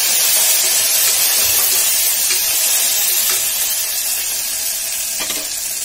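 Onions with ginger-garlic paste frying in a pan for a tamarind mutton curry, a steady close hiss and sizzle with faint crackles throughout, no voices.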